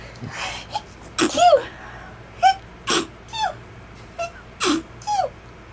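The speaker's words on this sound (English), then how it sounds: "that is what Raven sounds like when she sneezes" A series of sharp, snorting sneezes from a dog, about eight bursts in quick irregular succession, close by with brief whimpery squeaks between.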